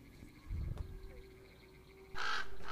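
Crow cawing in the Second Life virtual world at Hackberry Hall, a single loud harsh caw near the end after a quieter stretch with low rumbling and a faint steady hum.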